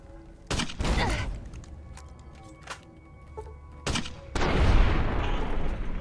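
Heavy shotgun blasts in Fallout: New Vegas boom out in a few loud, separate shots, with a longer roaring burst near the end and quieter gaps between.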